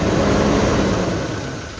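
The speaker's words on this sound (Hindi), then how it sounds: "ये टेंशनर की नॉइस है भाई" A revved car engine with a faulty belt tensioner, loud dense mechanical rumble and whirring close up that eases slightly toward the end, with no talking.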